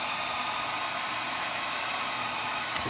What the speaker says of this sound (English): So we're gonna go ahead and just heat this up.